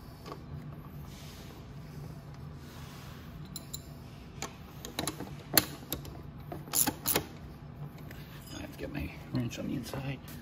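A socket ratchet tightening a nut on the rear shock of a Venom 1600w electric dirt bike, giving scattered close clicks and a few sharper metallic ticks over a low hum, with occasional speech.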